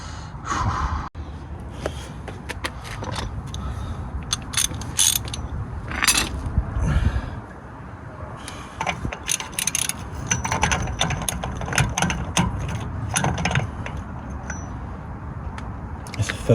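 Ratchet clicking while tightening a 36mm nut on a BMW driveshaft, exhaust side, with repeated metallic clicks and scraping mechanical noise in irregular bursts, plus occasional breathing.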